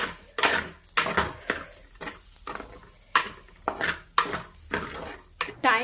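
A spoon scrapes and clanks in a pan while tempering leftover idli in a home kitchen, repeated metallic stirring strokes in an uneven rhythm over a light sizzle, close and fairly loud.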